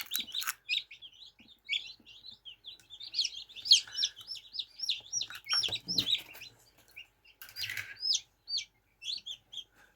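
Newly hatched Marans chicks chirp in quick, high-pitched peeps, several birds calling over one another in an uneven patter, close and fairly soft with brief handling noises.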